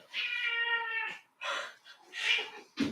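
A cat lets out a long, drawn-out meow close by, followed by two or three shorter, insistent cries in a quiet indoor kitchen.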